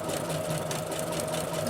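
A sewing machine runs steadily with no foot pedal, stitching a tank top in a continuous close whir with a constant hum for the whole stretch.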